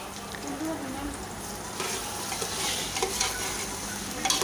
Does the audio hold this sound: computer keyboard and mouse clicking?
no